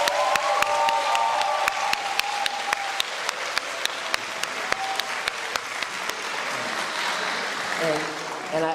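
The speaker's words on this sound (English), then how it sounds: "Can we give them one more round of applause?" A large audience at a college signing day for students breaks into loud, sustained applause with sharp individual claps standing out, and a speaking voice can be heard at the start and again as the applause dies down.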